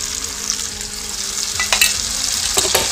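A paste of onion and garlic fries in a pan with a bright, continuous hiss that swells slightly near the end, broken by a few quick scrapes and clatters as it is stirred.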